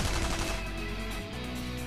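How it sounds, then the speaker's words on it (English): In the mecha strategy game Super Robot Wars Z2.2, a gorilla soldier fires a machine gun, producing a dense, continuous roar of rapid rounds with heavy low rumble and no pauses. "one of the gorillas just fucking machine guns her down"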